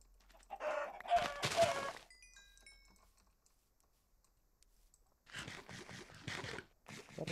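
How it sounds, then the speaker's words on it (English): Flock of blocky Minecraft chickens clucking in a Java Edition 1.8.9 hardcore world near a jungle biome, two dense bursts of overlapping clucks separated by a quiet stretch with faint tones, no talking. "That is a lot of chickens."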